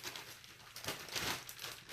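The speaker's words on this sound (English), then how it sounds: "I'm just going to store all these up in a plastic bag." A plastic bag crinkles and rustles softly as pieces of homemade peppered beef jerky are packed into it, a close, quiet rustle with a brief louder crackle near the end.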